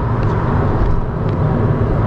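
A car coasting out of gear in neutral gives a steady, loud broadband road rumble and tyre roar with no engine revving, heard close from inside the cabin.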